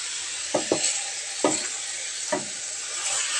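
Tofu and mushroom stir-fry sizzles in a pan under a constant bright hiss, broken by three or four soft scrapes of stirring.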